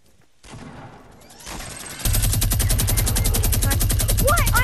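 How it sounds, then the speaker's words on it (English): A legendary minigun fires in Fortnite, a rapid, unbroken stream of loud, close shots that starts about halfway through and continues to the end, preceded by quieter game ambience and movement. "There's a minigun down here. A legendary one."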